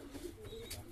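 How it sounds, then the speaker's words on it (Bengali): Lakka fantail pigeons, a breeding pair in a cage, give a soft, low coo over about a second, faint and close, with faint background noise. "এবারের জোড়াটা একটা লক্কার জোড়া, লক্কা ফ্যান্টেল"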